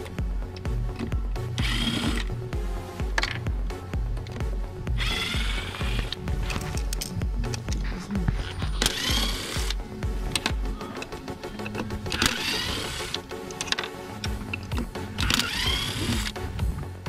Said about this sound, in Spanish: Para desmontar el módulo, debemos de retirar todos los tornillos